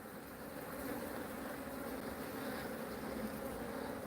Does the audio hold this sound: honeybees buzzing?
yes